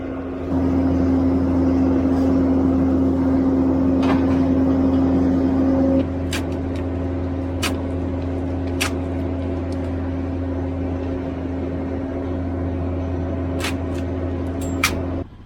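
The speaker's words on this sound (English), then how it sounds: "Come in here with the tractor and pick this whole thing up as one." A tractor engine drones steadily and loudly up close with a constant low hum, its pitch dropping slightly partway through, with occasional faint clanks and ticks over the running motor.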